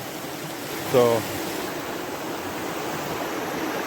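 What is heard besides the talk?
creek flowing at night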